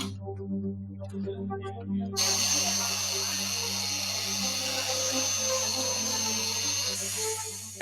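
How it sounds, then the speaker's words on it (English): A handheld grinder starts up after a few seconds of voices and background noise, then whines steadily and loudly for the rest of the time with a high, shrill tone. "Give me a grinder, some glasses."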